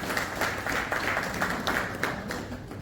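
An audience claps at a Lions Clubs International region conference, a dense, steady patter of many hands at moderate distance that carries on without a break.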